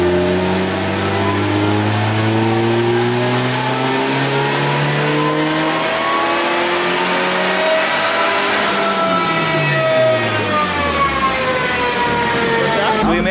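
A twin-turbo car engine running a T25 turbo, with the throttle held down. It roars loudly and continuously, its pitch climbing steadily through the pull and then sweeping down near the end.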